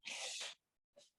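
A single sharp human sneeze bursts out loud and close, followed a moment later by a shorter, softer sniff or snort.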